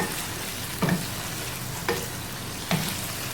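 Balochi tikka karahi browning over a medium flame, a steady close sizzle with three distinct spatula scrapes against the karahi, no speech.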